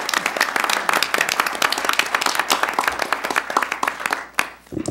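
Dense applause from a crowd at a California State Board of Equalization board meeting, many hands clapping rapidly and loudly for several seconds before tapering off at the end.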